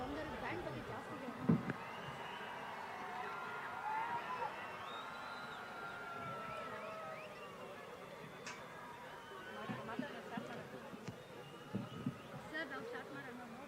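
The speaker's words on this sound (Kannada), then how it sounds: "ಹರ್ಷೋದ್ಗಾರದ ಝೀಂಕಾರ ಇಮ್ಮಡಿಯಾಗ್ತಾ ಇದೆ, ನೂರು ಮಡಿ ಆಗ್ತಾ ಇದೆ, ಮೂಲೆ ಮೂಲೆಗಳಿಂದ ಕೇಳಿ ಬರ್ತಾ ಇದೆ" Festival crowd at a Mysore Dasara cultural programme, a steady babble of many voices with scattered cheers and shouts rising around the middle and again near the end, heard from a distance.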